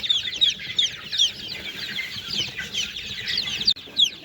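A dense chorus of high, rapid peeping from many chicks, continuous and fairly close, with no voices.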